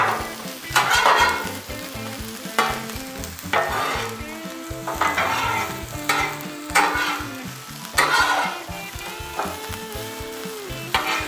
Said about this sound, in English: And we'll just give them a nice saute